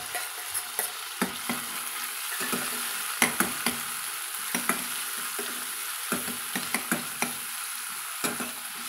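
Tomato and onion sauté in a hot pan for cauliflower kurma, a steady close-up sizzle broken by repeated scraping stirs and light clicks of the spoon against the pan.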